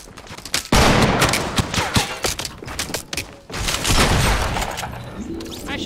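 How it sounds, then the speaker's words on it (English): Suppressive gunfire in Fortnite Battle Royale rattles out in loud, dense bursts of rapid shots and booms, pausing briefly before another heavy volley. "I'm sending suppressive fire."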